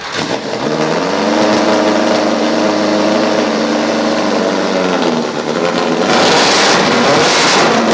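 A V8-powered motorcycle fitted with three spark plugs per cylinder runs loud and close, its deep, steady rumble holding for several seconds before the revs lift into a harsher, brighter roar near the end.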